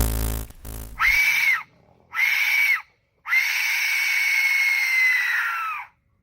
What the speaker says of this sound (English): So that you're hearing is the sound of a Mesoamerican death whistle.